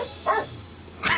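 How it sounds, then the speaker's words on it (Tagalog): A pet dog gives two short, sharp barks, close and fairly loud, separated by a brief pause, over a quiet background. "Sabayin niyo po aso niyo."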